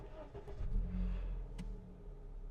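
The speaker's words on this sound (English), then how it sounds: "Let's start the vehicle up." A 2025 Honda Amaze with a manual gearbox starts up, heard from inside the cabin: a short cranking catch followed by a low, steady idle hum.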